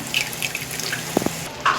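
Water poured into tamarind curry with taro root in a pot, a brief trickling splash with a couple of soft plops, fairly close and quiet, with no talking.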